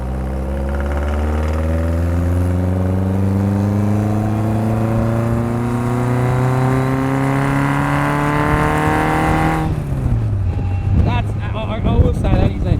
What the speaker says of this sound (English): I will say that is a very, very nice motor. It sounds amazing.